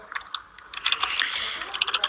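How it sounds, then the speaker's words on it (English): Close, quick keystrokes on a Portuguese computer keyboard, a soft irregular clatter of light taps that speeds into a continuous run of typing. "I'm writing with my Portuguese keyboard"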